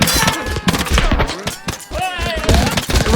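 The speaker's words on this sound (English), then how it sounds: "rifles are gonna fire." Rifles fire in rapid, overlapping volleys in the Totally Accurate Battle Simulator video game, dense and loud, mixed with metallic clangs and chaotic battle noise throughout.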